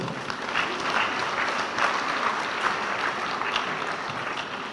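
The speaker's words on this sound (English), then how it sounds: "Another round of applause for the principal for a wonderful address." Audience applause at a college of education's twelfth annual congregation ceremony, a steady, dense clapping from a large crowd that holds at an even level throughout without pause.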